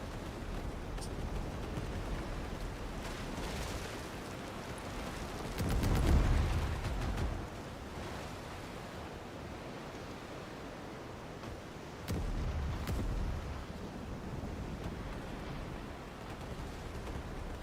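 Ship cannons boom in a pirate video game as enemy ships are sunk, with a heavy low blast around the middle and a second thump later over constant rumbling, ambient game noise, all fairly quiet and without voices.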